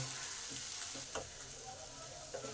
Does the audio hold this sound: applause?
no